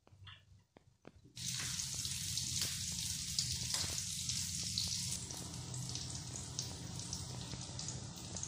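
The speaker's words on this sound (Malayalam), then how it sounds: "നമ്മൾ കറി നല്ലപോലെ തിളക്കുന്നുണ്ട്" A bitter gourd curry, made without coconut, boils and sizzles steadily in a pan, a continuous bubbling hiss that starts abruptly after a few light knocks and carries on alone.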